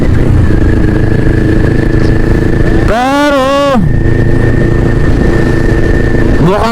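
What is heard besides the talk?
motorcycle engine running during a ride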